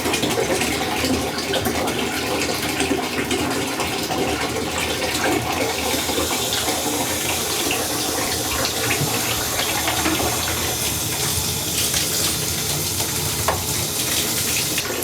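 Water runs steadily into a container being filled to 25 litres for a home vodka mash, a continuous close rushing and splashing that holds an even level throughout with no voices.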